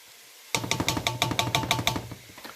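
Peppers dropped into a hot pan for vegan jambalaya: a sudden loud onset of sizzling with a rapid series of about a dozen rhythmic crackling pulses, close and prominent, no talking.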